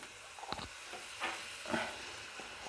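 Butter in an aluminium tadka pan for dal, giving soft sizzling with a few brief stirring scrapes and clinks, close and quiet, without talk.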